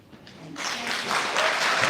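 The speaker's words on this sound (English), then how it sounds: "could you please hold your applause until the end of the code of event" An audience at a League of Women Voters mayoral candidates night in Waltham breaks into applause after a brief quiet moment, the clapping swelling quickly into a full, steady ovation across the hall.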